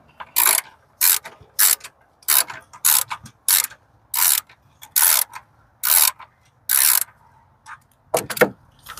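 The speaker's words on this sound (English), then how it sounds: "So we're going to go ahead and remove that." A hand ratchet with a 12mm socket loosening a bolt during a battery replacement on a 2004–2009 Kia Spectra EX: about a dozen loud, close bursts of rapid clicking, each separated by a short pause.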